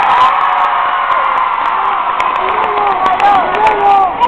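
A crowd claps and cheers loudly, with whoops and shouting voices mixed into the steady applause throughout.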